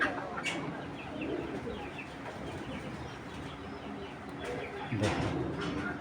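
A female Cobra breed pigeon coos softly nearby, giving low, rounded coos with a few sharp clicks over quiet background noise.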